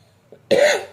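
A single short, sharp cough from a child who has been unwell with phlegm, close and fairly loud after a brief quiet moment, with no talk.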